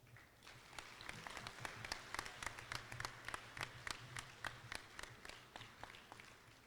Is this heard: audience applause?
yes